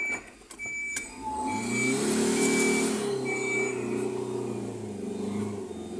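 A semi-trailer truck maneuvers on the steep descent of the Serra do Corvo Branco mountain road near Urubici, Santa Catarina, its engine a steady low rumble with brief revving and a faint beeping tone, sustained and fairly close without speech.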